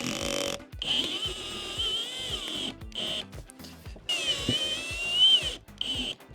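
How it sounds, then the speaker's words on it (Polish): A power drill drives self-drilling screws into a solar panel mounting frame on a camper roof, giving several loud whirring bursts with short pauses between them. "Teraz bierzemy się za dokręcenie jeszcze tutaj wkrętów"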